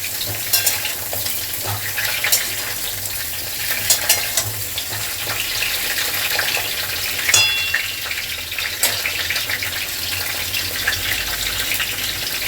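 Pointed gourd (potol) pieces frying in oil over a medium gas flame, a steady moderate sizzle with scattered clicks and occasional stirring knocks, no one speaking.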